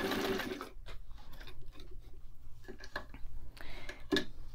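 A White 173 sewing machine stitches a 90-degree corner on a test piece, running in short uneven bursts with clicks and pauses over a low steady hum.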